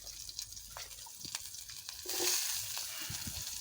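Chopped onion goes into hot oil with green chillies in a pan: faint scattered crackles, then a sudden louder hiss of sizzling that holds steady as the onion starts frying.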